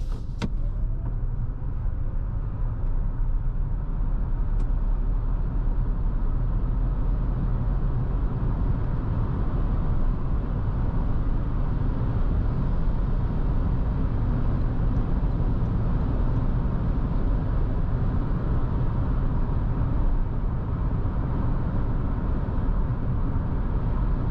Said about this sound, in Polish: Wyjedźmy teraz na autostradę.